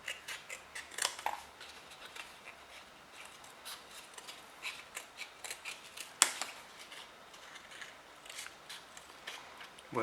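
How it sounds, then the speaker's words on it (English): Scissors snip through paper cups to shape rounded poppy petals, a steady run of sharp, close cuts and small crinkles with brief pauses between them, heard alone without any talking. "we're going to cut this into 2 more, so we have 4 petals, and then we're going to trim each of those to make them nice and rounded"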